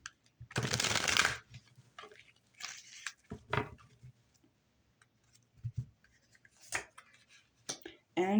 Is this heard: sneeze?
no